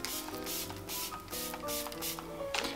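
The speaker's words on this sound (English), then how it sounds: "Such a beautiful setting spray as well." Makeup setting spray misted onto a face in several short hissing bursts, close and fairly quiet, with background music underneath.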